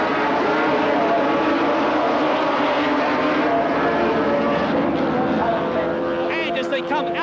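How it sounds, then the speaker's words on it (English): 750cc Yamaha and Kawasaki racing motorcycles accelerate away together at the start of a 1977 race at Brands Hatch. Their engines blend into a loud, dense, continuous roar with rising whines, and a voice can be heard over it. "And away they go. And it's a superb start by Steve Baker, and he leads into Paddock Bend"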